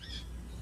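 A pet bird gives a loud, harsh squawk lasting well under a second, close by in a quiet room with no talking.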